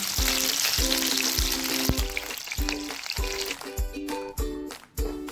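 Chicken meatballs (kofta) frying in hot oil give a dense, loud sizzle, broken by repeated clinks and scrapes of a metal utensil against the pan as the batch is lifted out, with the bubbling thinning toward the end.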